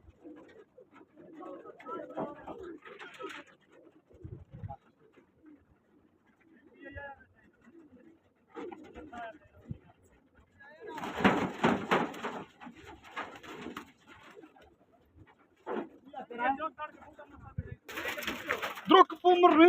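Pigeons coo and flutter in a rooftop pigeon-flying contest, their calls coming in scattered bursts amid loud shouting and calling from the handlers nearby.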